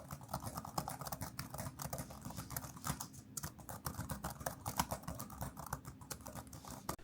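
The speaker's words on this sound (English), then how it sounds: "Let's do a keyboard noise test." Rapid typing on an iPad 10th gen keyboard case, a steady patter of light plastic key clicks close up, fairly quiet and uninterrupted with no talking.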